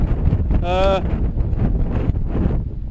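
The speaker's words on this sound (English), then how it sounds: "Incredibly windy, and cold with it" Heavy wind buffets the microphone in a constant low roar, with a brief whistling tone rising and falling near the start.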